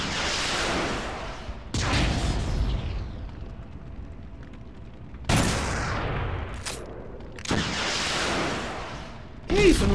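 Several loud gunshot bursts with long echoing tails in the PS2 game Black, separated by quieter stretches of low rumbling game ambience; no talking.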